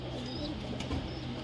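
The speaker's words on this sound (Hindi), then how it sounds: "अच्छा, सियालकोट का कबूतर है ये।" A Sialkoti pigeon coos close by in a breeding setup, soft repeated low calls over a steady murmur of background noise.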